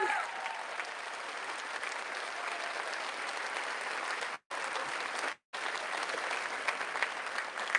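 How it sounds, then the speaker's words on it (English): An audience at a high school graduation ceremony applauds in a steady, moderately distant wash of clapping, broken by two brief gaps. "how about we give them a round of applause?"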